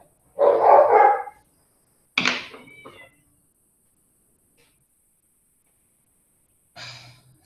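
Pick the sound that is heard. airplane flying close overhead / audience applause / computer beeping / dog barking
dog barking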